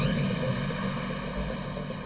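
A police helicopter flies by, a steady droning engine and rotor hum that stays even and moderately loud throughout, with no talking.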